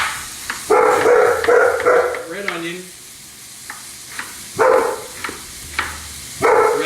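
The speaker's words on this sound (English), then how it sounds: "sorry, that's my dog." A pet dog barks a few short times in a home kitchen while onions sizzle and get stirred in a pot with butter and oil; a person speaks briefly.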